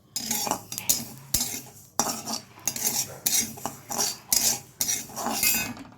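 A metal spatula clatters and scrapes against a wok as carom-seed fry is stirred over the heat, repeated quick strokes in an irregular rhythm, close and fairly loud, with a faint sizzle beneath.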